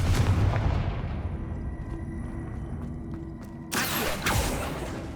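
A Confringo blasting spell fired in Hogwarts Legacy during a fight at the Korrow Ruins, heard as a sudden loud crackling burst after a stretch of low rumble, then a second close impact moments later.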